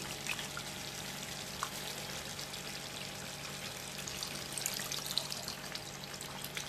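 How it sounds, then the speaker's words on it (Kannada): Tamarind water is poured into a pot of Andhra-style fish curry, giving a soft, steady watery splash and trickle that runs evenly for several seconds at close range, with no talking. "ಈಗ ಹುಣಸೆಹಣ್ಣು ಕಲಸಿಟ್ಟಿದ್ವಲ್ಲ ನೀರು, ಆ ನೀರು ಹಾಕ್ಕೊಳ್ಳೋಣ"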